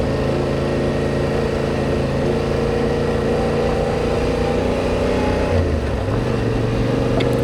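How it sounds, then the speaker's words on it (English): Steady, continuous engine drone of a Yamaha Tenere 700 adventure motorcycle on the road, loud and close with a slight pitch shift near the end, no talking. "Adventure bike riding."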